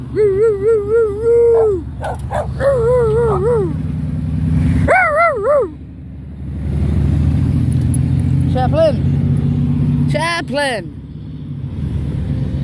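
A dog howls in several long, wavering cries close by, with a car engine rumbling underneath and a person speaking at moments.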